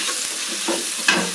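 Tomatoes frying with onions in a pan, a steady close sizzle with light stirring scrapes across a brief moment, no talking.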